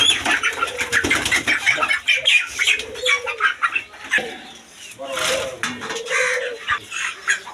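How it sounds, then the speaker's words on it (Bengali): A pair of high-flying Kaldom pigeons coos and flaps its wings in a loft with other birds, a busy mix of repeated low coos and wingbeats and shifting chatter at close range, with human voices faint in the background. "এইখানে এক পেয়ার কালদম কবুতর আছে দেখেন হাই ফ্লাইং কালদম কবুতর"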